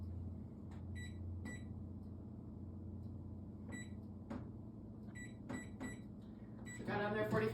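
A microwave oven being set and started to cook egg roll shells, with a low steady hum, several clusters of sharp keypad beeps, and a louder whir as it kicks on at the end.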